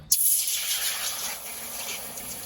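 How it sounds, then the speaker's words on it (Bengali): Water being poured into a wok, heard as a steady close rush and hiss that starts abruptly and then holds at an even level, with no talk. "এবার এই কড়াইতে দিয়ে দেবো জল"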